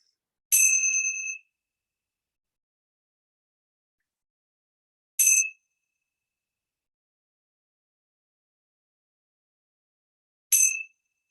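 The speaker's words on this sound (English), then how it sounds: "let's begin our time together with the ringing of the bell" A meditation bell rings three separate times, each a clear, resonant strike with a sustained ring that fades, spaced about five seconds apart in otherwise silent surroundings.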